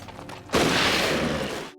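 A single loud, sharp gunshot in a Western cowboy film, with a long noisy crash that fades over about a second, after quiet background.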